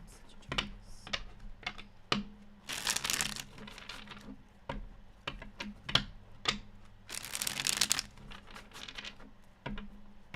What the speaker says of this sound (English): Let me shuffle something.